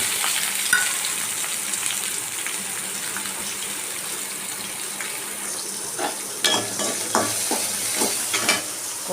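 Small onions and spices such as cinnamon bark frying in hot oil for a mutton dish, a continuous close sizzle with scraping stirs and a few sharper crackles and pops toward the end, no talking.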